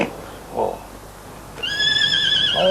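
A horse neighs loudly at close range in a cartoon farm scene, a sustained whinny with strong tonal harmonics that rises in the second half after brief murmured talk.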